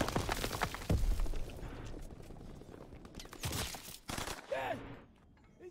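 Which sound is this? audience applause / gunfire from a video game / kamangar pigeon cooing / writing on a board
gunfire from a video game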